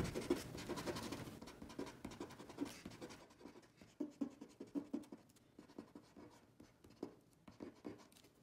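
An eraser rubs lightly over a pencil sketch on watercolor paper, a dense scratchy scrubbing that turns into distinct short back-and-forth strokes, close and soft with no talking.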